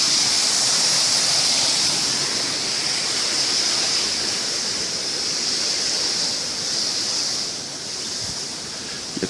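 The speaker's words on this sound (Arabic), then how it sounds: "شلالات" A powerful waterfall at Bouadel in Taounate, Morocco, thunders as one steady, loud roar of rushing water for the whole clip, with no voices.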